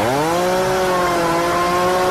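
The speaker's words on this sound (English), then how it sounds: "Why didn't you just start off with a chainsaw?" A chainsaw runs steadily at a high, droning pitch, its engine note holding nearly constant and close to the microphone, with no voices over it.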